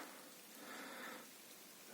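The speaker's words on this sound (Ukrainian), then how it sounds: "тихо, дощик накрапує" Light rain drizzling in a forest in Baimaky, Khmelnytskyi Oblast, Ukraine, a soft, steady hiss of drops with no voices, swelling slightly midway before settling back.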